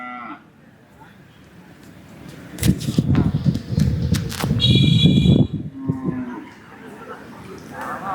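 Native cattle moo loudly and repeatedly at the Palayakottai cattle market, low bellowing calls rising over a busy outdoor background with a brief electronic beep and distant activity.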